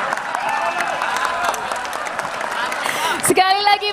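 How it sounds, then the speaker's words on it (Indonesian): Audience applause for a presidential candidate at an Indonesian campaign event, a steady broad clatter of clapping from a crowd with talk mixed in, swelling with a brief burst near the end. "Sekali lagi berikan tepuk tangan yang meriah untuk calon presiden nomor urut 2, Prabowo Subianto."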